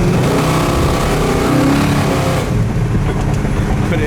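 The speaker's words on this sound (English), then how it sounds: "This car sounds so good." A 500hp 1970 Chevelle SS V8 accelerates down the road, its loud, dense engine roar steady throughout and easing slightly after midway, with no talk.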